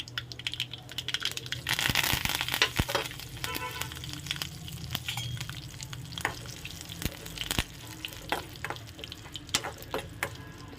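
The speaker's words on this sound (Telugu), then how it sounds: "ఆయిల్ వేడైనాక ఇందులోకి జీలకర్ర, ఒట్టి మిరపకాయలు, కరివేపాకు" Cumin seeds, dried chillies and curry leaves crackling in hot oil for a tempering, a busy sizzle with sharp pops, swelling loudest early then settling into scattered crackles.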